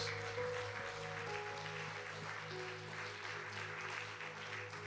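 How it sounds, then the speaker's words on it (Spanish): A church congregation claps for God in steady, dense applause that fills the room at even loudness, with a faint tonal hum underneath. "Dale un fuerte palmas a Dios."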